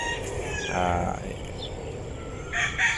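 Heritage-breed roosters crow and hens cluck in the background on a range, a farmyard chorus with some distant calls and a brief louder crow near the end.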